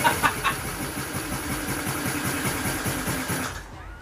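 A Lifan 110cc semi-automatic engine fitted in a Honda C90 starts on the first kick with a bit of choke, catching quickly and settling into a steady, close putter and rapid idle before cutting off near the end.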